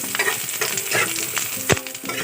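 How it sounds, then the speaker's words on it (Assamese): Onions fry in hot mustard oil in a wok with a continuous crackling sizzle, broken by close scraping strokes of a spatula stirring them. "পিঁয়াজখিনি এনেকৈ অকণমান সময় ভাজিব লাগিব, ৰঙচুৱা হোৱাকৈ"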